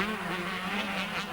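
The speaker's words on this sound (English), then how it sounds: "it's the red Honda of Stribus that's out there in front. The yellow Suzuki of Tractor chasing hard in 2nd" Two 125cc racing motorcycles, a red Honda leading a yellow Suzuki, at the 1992 Belgian Grand Prix, give a steady high-pitched two-stroke engine buzz that holds loud and continuous throughout, with no voices over it.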